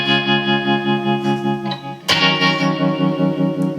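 Electric guitar strums a beat, sustained chords pulsing steadily under heavy tremolo with a slight distortion edge, a fresh accented strum near the middle, played alone and up close.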